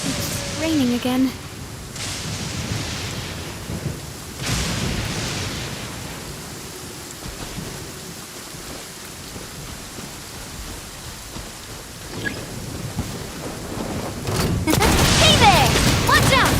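Steady rain hisses through a Genshin Impact scene while low thunder rumbles swell in a few times, loudest near the end, with brief game voices at the start.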